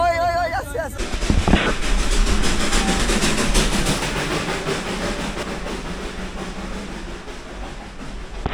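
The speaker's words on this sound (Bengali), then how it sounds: "বাতাসি আলু আর টয় ট্রেন আসছে, দেখাই তোমাদেরকে, আওয়াজ হচ্ছে।" The Darjeeling toy train approaches on its hill line, a loud hissing, rumbling rail noise with rhythmic clatter that holds steady after a brief voice at the start.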